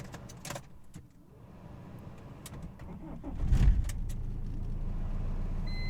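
A car engine cranks and catches using an ANCEL BS200 jump starter, with a few clicks and rattles at first, then a rising burst as it fires and settles into a steady idle rumble.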